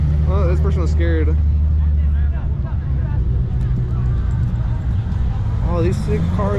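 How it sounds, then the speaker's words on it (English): Cars at an Ocean Beach street takeover meet rolling past with a continuous low engine rumble, mixed with crowd chatter and close voices talking over it. "Oh, these sick cars are rolling out right now"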